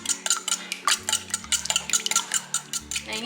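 Four eggs with vanilla are stirred briskly in a bowl for chocolate cake batter, producing quick, rhythmic clinks and scrapes of utensil against bowl, close and clear, over a faint steady hum.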